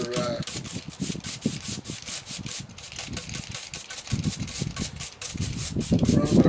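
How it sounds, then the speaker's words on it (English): Stiff whisk broom scrubbing across a repaired concrete bench corner, a steady run of close, rough scratchy strokes that keeps going for several seconds and grows louder near the end. "The whisk broom actually making some nice lines there, and it's tough enough it can take some high spots off as well."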